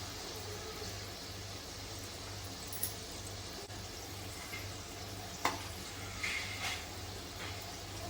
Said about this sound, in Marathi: चांगली तळून घ्यायची तेल गरम झाले की गॅस मिडियम करायची